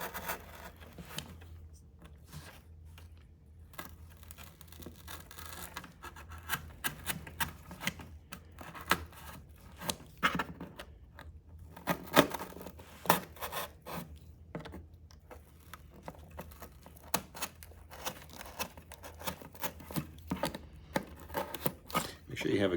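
A box cutter knife slicing openings into a cardboard box, heard as irregular scraping, rasping cuts and dull taps, fairly close, with a person talking over parts of it.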